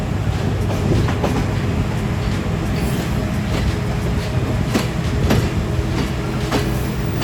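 A train arriving at Natore railway station in Bangladesh rumbles along steadily, with a low continuous roar and repeated rhythmic clacks of wheels over rail joints.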